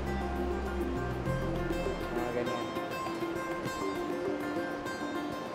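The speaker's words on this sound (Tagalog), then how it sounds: "Sa bilis talaga ng alon." Ocean waves at Ayoke Island wash steadily and loudly as continuous surf, with a low rumble at the start and no talking.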